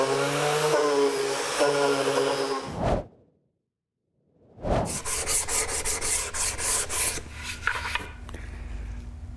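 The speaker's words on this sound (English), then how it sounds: "now I'm just finishing with a little bit of hand sanding" Rhythmic rasping strokes of sandpaper hand sanding birch wood, close and fairly loud, broken by a few seconds of silence midway before the scrubbing resumes.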